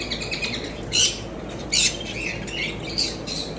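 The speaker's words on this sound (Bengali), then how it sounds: "অনেক রকমের পাখি আপনারা দেখতে পাচ্ছেন, এগুলা সে বিক্রি করে" Birds in a pet bird shop in America give sharp repeated squawks and chirps over a constant hum of shop noise and fluttering, several loud calls close by.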